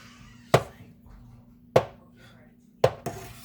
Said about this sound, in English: we're gonna get back to cutting the curds here